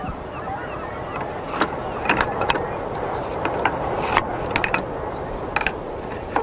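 A polybolos, the ancient repeating crossbow, works its chain mechanism with irregular ratcheting clicks and clacks that sit close and sharp over a steady background rumble.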